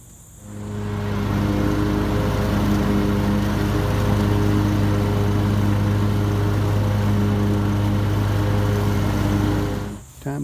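A John Deere Z930m zero-turn lawn mower drones steadily while mowing grass, its engine starting up, holding a loud even hum with strong low harmonics for several seconds, then cutting off at the end.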